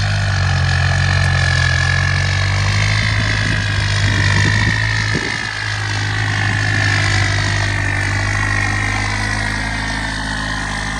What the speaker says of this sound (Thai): เทอร์โบเขาเสียงหวานเจี๊ยบนะครับ